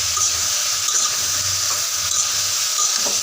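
Flat beans (shim) stirring and frying in a pan on medium heat, a steady close sizzle with soft scraping stir strokes throughout, no talking.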